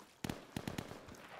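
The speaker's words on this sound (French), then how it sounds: "Ça tire." Gunfire in the tactical first-person shooter Insurgency: a few sharp cracking shots in a quick irregular burst, fairly close, with no talking.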